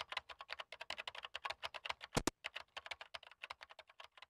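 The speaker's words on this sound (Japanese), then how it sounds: "僕はキーボードを打つ手を休め、一息ついた。" Rapid computer keyboard typing from the video game Hayarigami Revenge, a steady run of crisp close keystrokes with one brief louder clack midway, heard alone without voices.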